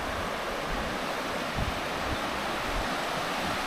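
A river swollen and overflowing after rain rushes past in a steady, dense roar of broadband water noise, continuous and close, with no voices over it.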